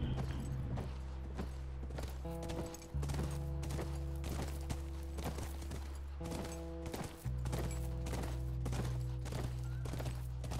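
A horse's hooves clip-clop near a ranch in the video game Red Dead Redemption 2, a steady walking rhythm of hoof strikes layered over a sustained low musical drone.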